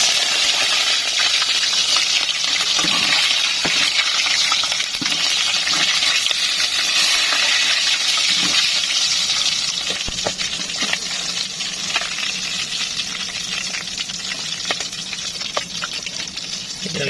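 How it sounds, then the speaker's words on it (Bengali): Pieces of rohu fish fry in hot oil with a dense, continuous sizzle and crackle, dotted with sharp pops and occasional clinks of a utensil, steady and close with no talking. "মাছগুলো আমি এক এক করে ভেজে নেব।"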